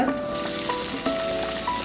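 Chopped onion sautéing in a small amount of oil with garlic for chicken misua soup, a steady close sizzle with light stirring scrapes and no voices.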